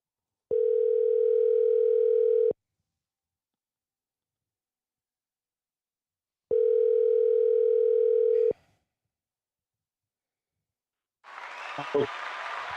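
A telephone ringback tone plays while a call goes through, two long steady tones separated by silence, close and clear, then a burst of noise and a voice at the end as the call connects.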